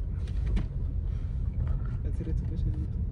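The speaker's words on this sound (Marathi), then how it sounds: "हे बघा ना नुसत्या कंटिन्यू गाड्या चालू आहे यार" Heavy, continuous road traffic rumbles steadily near a busy town chowk, with cars passing one after another and a faint horn-like tone mixed into the background.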